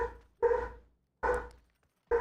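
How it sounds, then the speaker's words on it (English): A dog barks at someone at the door: three separate barks, evenly spaced and fairly quiet, with silence between them. "My dog's barking."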